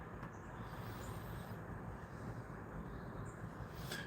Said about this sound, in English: Trains are coming through. Y'all hear the train whistles?